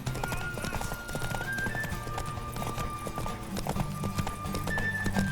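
Rapid clip-clop of horse hooves in the video game The Witcher 3 runs steadily throughout, with faint tonal game sounds in the background.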